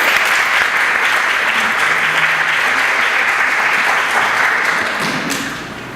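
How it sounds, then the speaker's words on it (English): An audience applauds a speaker at a talk with loud, sustained clapping from a crowd. It stays steady for several seconds, then begins to taper off near the end. "let's give a big round of applause to Jeremy Roschelle."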